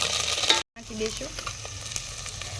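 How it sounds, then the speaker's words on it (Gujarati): A paste of ginger, garlic and chili fries in hot oil with a continuous crackling sizzle. The sound drops out briefly and then carries on, with faint stirring noises mixed in. "તો હવે તેલ મૂકી દીધું છે, અને એમાં નાખી દઈશું આદુ, લસણ ને મરચાંનો પેસ્ટ કરેલ છે"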